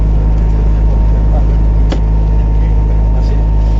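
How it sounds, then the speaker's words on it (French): A light aircraft engine idles just after start-up, a loud, steady, close drone with a constant hum and no breaks. "Donc engine start complete."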